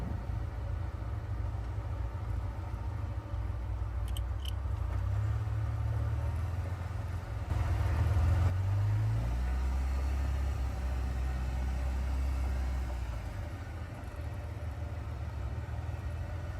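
A 1948 Willys CJ2A jeep on a winter off-road trail, its engine a steady low rumble that swells briefly midway, continuous and close with no talk.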